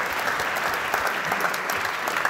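Symposium audience applauding at the close of a panel on IoT and society, a steady, even wash of many hands clapping throughout, with no speech over it.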